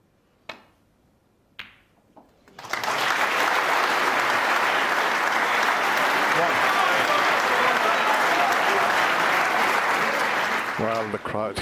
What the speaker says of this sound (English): the crowd really getting involved in this absorbing quarter-final match now as Judd cannons the blue